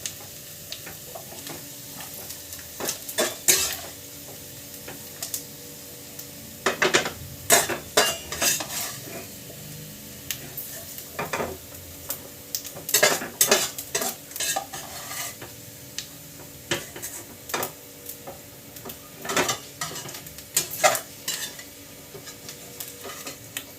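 Fried jengkol being stirred and scraped in a Teflon pan, irregular bursts of metal utensil scraping and clacking against the pan over a faint sizzle, close and without talk.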